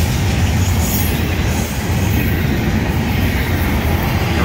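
A heavy Florida East Coast Railway freight train rumbles past up close, steady loud low roar with metallic wheel squeal and rattling cars throughout.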